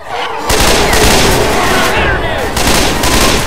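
Left 4 Dead 2 survival round with loud, dense automatic gunfire bursts almost nonstop over about three seconds, with a brief gap at the start and a short dip midway.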